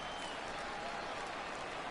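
A home crowd at a minor league baseball game between the San Antonio Missions and Midland Rockhounds cheers and applauds a home run in a steady, distant wash of noise.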